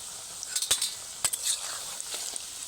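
Madan kotkoti dough frying in boiling oil, a steady high sizzle broken by a few sharp metallic clinks from a utensil against the pan.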